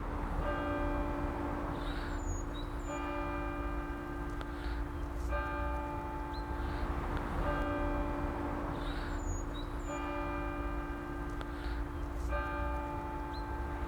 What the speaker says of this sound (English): For whom doth the bell toll?